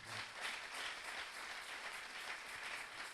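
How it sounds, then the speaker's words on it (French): A church congregation applauding, a dense, steady patter of many hands clapping together that holds evenly throughout at moderate loudness. "On acclame le Seigneur."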